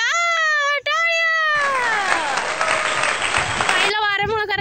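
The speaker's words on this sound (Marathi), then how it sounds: "अरे वा, टाळ्या." A brief burst of hand clapping from a small family group outdoors lasts about two seconds. High, sliding whistle-like tones from a leaf come just before and after it.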